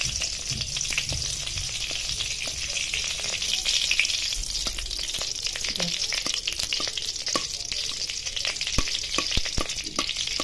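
Grated coconut roasts in ghee for coconut barfi while a spoon keeps stirring. A constant close, bright sizzle runs under frequent scraping strokes against the pan.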